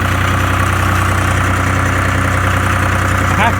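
A Case IH 395 tractor's smoky diesel engine idles close by with a steady, loud, even drone throughout.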